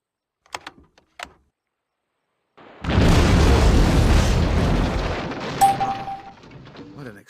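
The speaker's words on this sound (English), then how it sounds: "What an explosion." A big, rumbling explosion in the war game Arma: Cold War Assault roars up after a couple of faint clicks, holding loud for several seconds before slowly fading with a brief tone near the tail.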